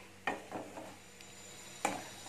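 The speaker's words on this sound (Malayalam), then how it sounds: "നമുക്കിന്നിട്ട് ഇത് ഒന്ന് ഇളക്കി കൊടുക്കാം" A spoon stirs semiya upma in a pan with a few soft scraping strokes and a faint sizzle, quiet and close, with no talking.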